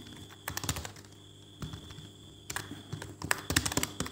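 Typing on a computer keyboard while coding a search box in HTML and CSS, heard as faint, close, uneven bursts of light key clicks over a low background hum.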